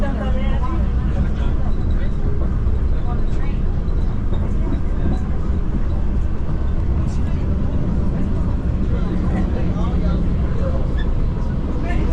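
An airport shuttle train rolls along with a steady rumbling hum and rattle, while people talk faintly underneath throughout the ride.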